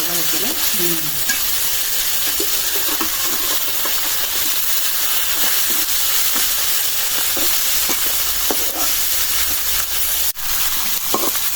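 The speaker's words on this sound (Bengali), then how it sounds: "মাছগুলি অনেক ভালো করে ভাজলাম" Fish frying in a wok hisses and sizzles in a steady, loud, close wash, with occasional stirring scrapes and clicks breaking through; no one speaks.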